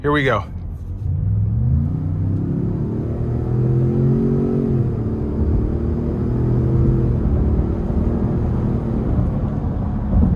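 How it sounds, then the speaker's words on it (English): A 2025 Ford Expedition Platinum accelerates hard in sport mode onto a highway, its engine note climbing into a loud, steady drone that holds as speed builds. A brief voice speaks at the start. "Now we're gonna put it in a sport mode and see how this thing does getting on the highway."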